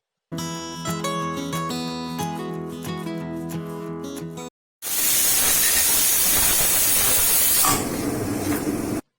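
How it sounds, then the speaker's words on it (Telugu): A pressure cooker holding a cashew and drumstick curry releases steam in a loud, sustained hiss lasting about four seconds, after several seconds of background music. "ఇప్పుడు మూత పెట్టి 2 విజిల్స్ రానిద్దాం."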